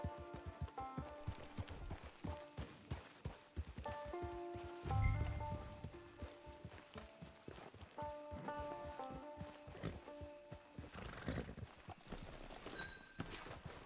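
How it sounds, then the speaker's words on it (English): Horse hooves clip-clop steadily in a video game near a camp, layered under a busy musical score with a brief heavier thud partway through. "Get your horse."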